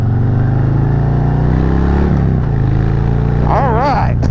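A Harley-Davidson Heritage Softail motorcycle rolls on the throttle, its loud, steady engine drone building with rising revs over several seconds, close by.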